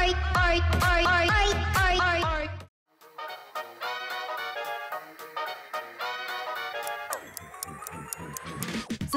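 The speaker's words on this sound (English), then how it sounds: "Surprise! It's Smurf Cat." Smurf Cat meme song: a loud, bouncy synthesized melody breaks off abruptly, then a second section of ticking, clock-like percussion and tonal notes builds steadily to the end.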